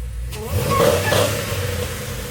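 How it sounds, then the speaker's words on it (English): A deep supercharged 408 cubic inch V8 with an LSA supercharger, making 750 horsepower, drones steadily and swells slightly as it revs, a close, loud car motor running throughout. "This is a supercharged 408 cubic inch engine with an LSA supercharger making 750 horsepower."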